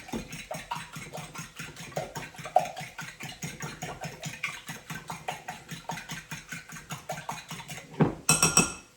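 Salt and pepper being mixed into an onion pie filling, with a steady run of quick scraping, clinking strokes of a utensil against a bowl, close and fairly loud, ending in a brief louder flurry.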